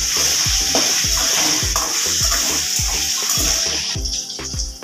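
Garlic and shallots sautéing in a pan for a chutney, a continuous loud sizzle punctuated by regular spatula knocks and scrapes, tapering slightly toward the end, no talk.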